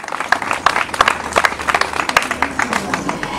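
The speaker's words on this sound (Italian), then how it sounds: "un applauso a Dino Mariani che è sempre con noi" An audience at an amateur cultural association event applauds: dense, fairly loud clapping from many hands, steady throughout with some crowd noise mixed in.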